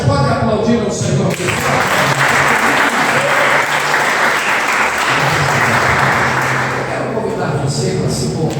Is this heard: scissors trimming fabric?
no